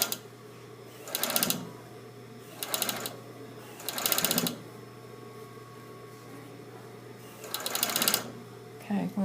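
A blind hem sewing machine stitches fabric in four short bursts of rapid mechanical whirring with pauses between, with low room noise and quiet talk in the background.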